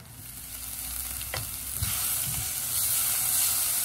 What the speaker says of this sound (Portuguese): eu vou esperar dar uma refogada aqui na cebola